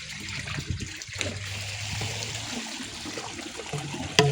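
Water runs and gurgles steadily as it drains from a canal holding murrel fish, a soft continuous trickle with low sloshing, fairly faint and close by.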